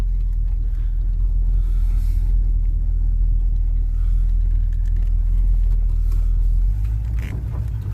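A Chevrolet Monte Carlo idles after a cold start, its engine a steady, close, deep rumble held level throughout and dipping slightly near the end.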